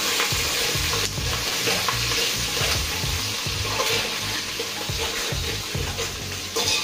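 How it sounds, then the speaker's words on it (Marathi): Curry leaves fry in oil on a low flame for chivda, a continuous close sizzle with repeated soft scraping strokes of a spoon stirring through the pan. "कढीपत्ता ही छान मंद आचेवर फ्राय करायचंय, जेणेकरून हे जिन्नस सुद्धा बऱ्यापैकी फ्राय होतील।"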